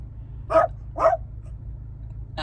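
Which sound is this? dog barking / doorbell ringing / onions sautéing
dog barking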